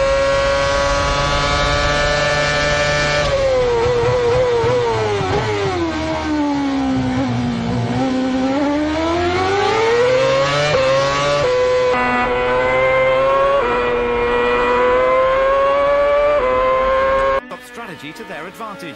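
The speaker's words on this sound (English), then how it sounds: "Seized upon Hamilton under braking and moved up to 4th." A Lotus Formula 1 race car howls at high revs through a racing sequence, its engine pitch dipping under braking and climbing again under acceleration, loud and close beneath continuous commentary.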